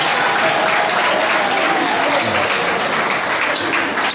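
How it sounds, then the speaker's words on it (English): Sustained, dense applause from an audience at a founder's day gala award night, holding steady and loud throughout with no break, the crowd clapping as an honoured teacher returns to his seat. "Please let us continue to clap for him until he sits down."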